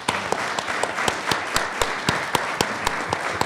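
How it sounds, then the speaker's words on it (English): An audience applauds a business panel at a live event on attracting and retaining talent, a steady wash of clapping with a few sharp, distinct claps standing out. "Let's give our panel a round of applause."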